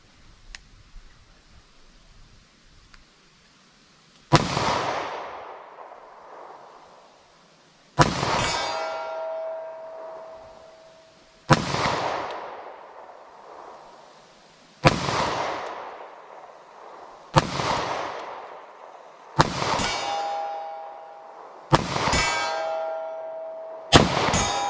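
Seven sharp 9mm subcompact pistol shots fired at a steel target from 75 yards, spaced a few seconds apart, each a loud crack followed by a decaying ring and occasional metallic ping from the steel, in an outdoor range.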